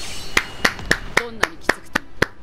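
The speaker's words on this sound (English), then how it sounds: "Sorry, I had to clap on that because that was stupid." Nine evenly spaced hand claps ring out close and loud in a steady rhythm, with brief voice fragments and faint game sounds underneath.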